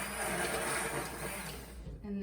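A kitchen blender whirs steadily and close, a continuous high motor whine that cuts off near the end, while someone speaks over it.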